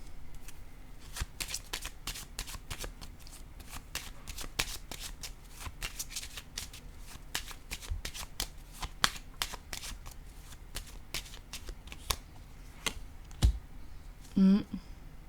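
Tarot-style cards shuffled repeatedly with dense riffling clicks, then a card set down with a soft thud near the end, close and fairly quiet, with a brief voice sound at the close.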